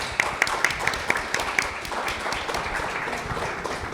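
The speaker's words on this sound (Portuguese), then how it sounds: "Uma salva de palmas." Thin, scattered applause from a modest audience greeting a speaker called to the stage at a film event, with several distinct claps early on and then a steady soft patter, fairly distant and moderately quiet.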